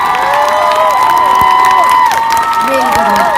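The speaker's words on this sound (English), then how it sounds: "let's give a big cheer to our BSL translators this year" Crowd cheering and whooping at the outdoor West End Live event in Trafalgar Square, a dense sustained roar of many voices with scattered shouts and applause, loud and continuous throughout.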